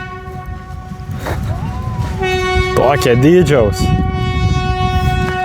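A train passes in rural Lithuania with a low rumbling roll, and a loud horn blast sounds near the middle over a sustained tonal whine, while someone talks over it.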